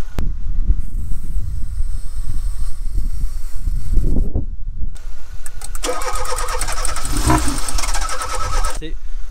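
A 1989 Volvo 480, left abandoned for eight years, cranks and fires into a rough loud idle up close, with people talking and exclaiming nearby.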